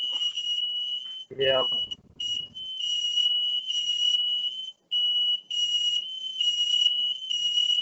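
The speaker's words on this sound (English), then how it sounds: "smoke detectors." A household smoke detector sounds a loud, piercing electronic alarm in repeated long pulses with short gaps. Someone briefly speaks near the start.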